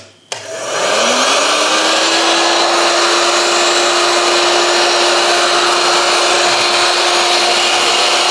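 An electric heater powered by a Jackery Explorer 300 portable power station switches on with a click, then settles into a steady loud fan-like whir with a constant tone that holds unchanged to the end.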